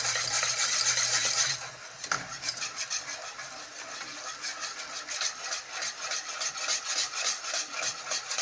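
A whisk scrapes and stirs steadily through béchamel sauce in a pan as milk is poured in, making a continuous, rhythmic close-up rasping and swishing with no talk.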